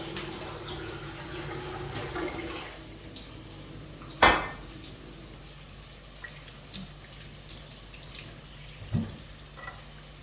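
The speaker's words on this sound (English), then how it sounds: "I dropped my spoon. Let me give it a wash." Water runs from a tap while a metal spoon clinks against a sink or dish, with a couple of sharper clatters standing out.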